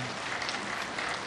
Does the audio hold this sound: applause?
yes